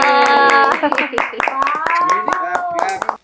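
Family members at home clap during a gift-opening, with quick, sharp claps ticking out in a steady rhythm beneath loud, close voices that chant and talk over them.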